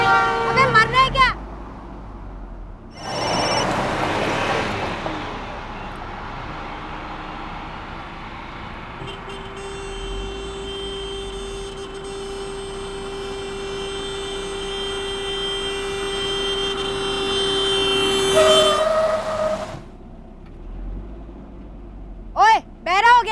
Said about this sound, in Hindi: हॉर्न नहीं सुनाई दे रहा तेरे को?